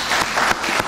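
Audience applause during a televised news program in the Democratic Republic of Congo, a steady wash of many hands clapping at moderate loudness, with no voices over it.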